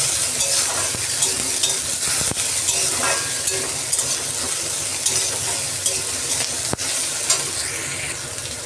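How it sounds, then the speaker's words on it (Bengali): Onion frying in oil with ginger and garlic for egg tadka, a dense continuous sizzle close to the mic, with occasional sharp spatula scrapes against the pan. "আদা রসুনটা ভালো করে ভাজা হয়ে গেছে এবার পেঁয়াজ দিয়ে দিচ্ছি"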